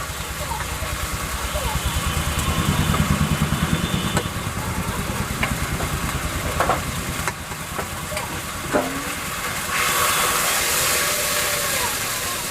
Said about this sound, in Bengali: পেঁয়াজ রসুন বাটাটা দিয়ে খুব ভালো করে কষিয়ে নেব